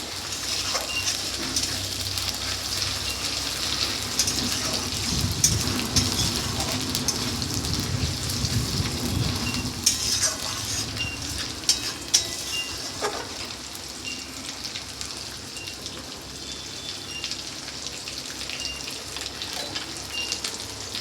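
Black cumin, tea and fenugreek simmering in homemade hair oil, a continuous bubbling sizzle like light rain, louder in the first half and steady throughout with no talking.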